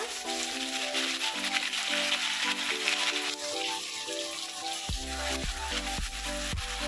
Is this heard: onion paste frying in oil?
yes